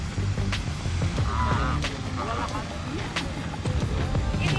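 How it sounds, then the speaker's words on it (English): Geese at Herman Park in Houston give a few scattered honks over outdoor background noise, with people talking nearby. "There goes the geese at Herman Park that are really friendly."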